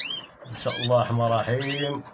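Pigeons coo in soft, repeated low rolling notes close by during a hot day, overlapping with someone speaking.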